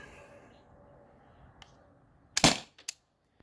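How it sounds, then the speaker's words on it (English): A T4E TR50 revolver fires a nearby shot, a sharp loud crack with a short tail, followed by two fainter clicks; a quieter click comes earlier and the start is otherwise near silent. "So here we go, another 6 shots."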